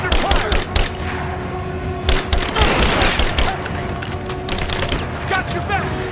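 Rapid gunfire in Rise of the Tomb Raider, loud bursts of automatic shots and single cracks in quick succession, close and forceful, with brief pauses between volleys and voices calling out under the shooting.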